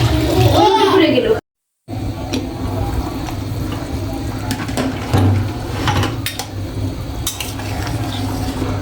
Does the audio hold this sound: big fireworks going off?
no